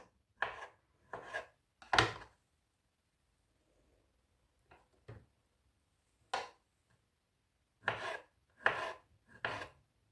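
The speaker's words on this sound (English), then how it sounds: "Just going to slice the olives." A knife slicing olives on a board: a series of short, crisp cutting taps in small clusters separated by quiet gaps, close and fairly soft, with no talking.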